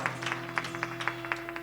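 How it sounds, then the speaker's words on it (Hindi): Faint, thin clapping from an audience, a scattered patter of hand claps at a low level, heard at some distance over a steady hum. "बजाओ जोरदार ताली यदि आपको अच्छा लगा हो तो"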